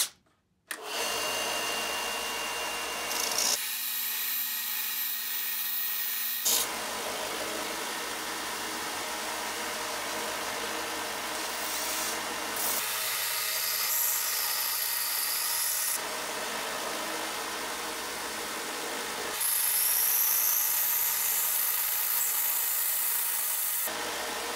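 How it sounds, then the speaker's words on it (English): A belt sander with 80 grit sandpaper shapes a stone whistle held in a sanding block, a steady motor whine broken by several abrasive grinding passes that start and stop over about twenty-five seconds. "This belt sander is just like the one we run at school"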